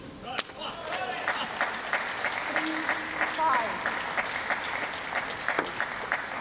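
Crowd applause fills a table tennis arena during a women's singles match at Saudi Smash 2024, a steady roll of clapping with a commentator talking over it.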